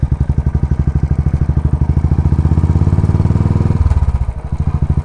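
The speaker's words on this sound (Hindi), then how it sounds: "अब चलो चलते हैं अब देखना कि क्या होगा जैसे मैं बाइक चला रहा हूँ अपनी" A Royal Enfield motorcycle thumps steadily as it is ridden, its loud single-cylinder beat close and continuous, with a slight shift in rhythm near the end as the rider changes pace.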